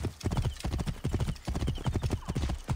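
Rapid hoofbeats of a galloping horse in the video game Assassin's Creed Origins pound steadily and close, with a brief whinny mixed in.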